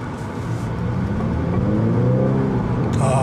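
A new Honda Accord accelerating in sport mode, heard from inside the car as a loud, smooth engine note rising steadily in pitch, with a brief higher whine at the very end.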